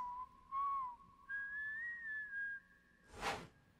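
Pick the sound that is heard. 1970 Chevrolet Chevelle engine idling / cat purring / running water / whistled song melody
whistled song melody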